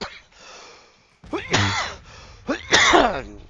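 A man with a cough clears his throat and coughs in two harsh, close bursts during a Civil War strategy game livestream, with a brief vocal murmur between them.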